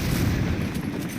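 Grenade explosion in the video game Quake Wars, heard as a loud, dense, low rumbling blast filling the whole moment with no clear onset and no voices.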